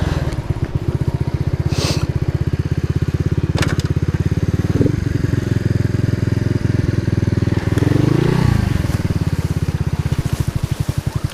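A small Alfa enduro moped engine stuck in a swamp chugs loudly and continuously close up, rising into a strained rev partway through before settling back.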